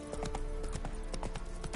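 Horse hooves clip-clop in The Witcher: Wild Hunt on PS5, a quick, regular run of hoof strikes at a steady trotting rhythm, fairly close and clear, with a soft tonal game backdrop underneath.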